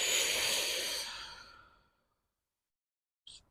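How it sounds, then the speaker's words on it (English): A slow, audible exhale during a yoga breathing exercise, a long breathy release that gradually tapers into silence, followed by a brief faint sniff or intake near the end. "Breathing."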